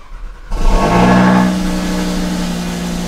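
An Audi RS3 engine cranks and catches after a brief quiet moment, surges up in a loud rev, then settles into a steady, throaty idle close by.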